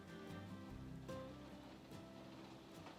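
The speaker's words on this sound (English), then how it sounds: "It's raining pretty hard." Heavy rain pours steadily outside a school building, a dense continuous hiss with faint scattered taps, no voices over it.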